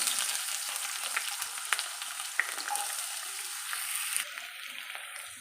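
Green chilies and onions frying in oil in a kadai, a constant close hissing sizzle with small crackles and spatter pops throughout, thinning slightly near the end, with no speech.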